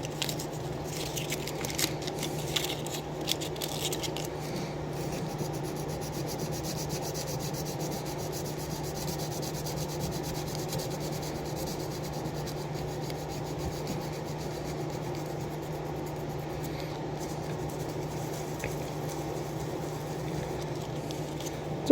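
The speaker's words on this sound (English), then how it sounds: "I'm sanding down so much the paint underneath is coming through" Fine 600-grit sandpaper rubs steadily over a painted WWII helmet, a soft continuous scratchy rasp with a few small knocks, close and quiet throughout.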